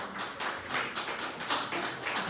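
An audience at a city council candidates forum claps together in a steady, even patter that lasts the whole moment, with no voices over it.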